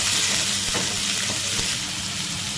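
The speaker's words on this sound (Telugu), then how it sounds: "రెడ్ కలర్ వచ్చే వరకు మంచిగా ఫ్రై చేసుకుందాం" Finely chopped onions fry in a pan, giving a dense, continuous hiss of sizzling oil with a few soft stirring knocks, close and loud, with no voices.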